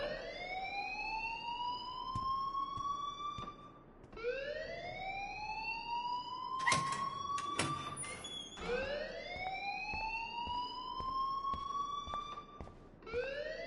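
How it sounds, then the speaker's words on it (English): An emergency alarm blares inside a building in the video game Life is Strange, a loud wailing siren rising and falling in repeated sweeps, with brief clattering knocks partway through. "please turn off that alarm since that's your job"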